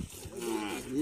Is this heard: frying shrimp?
no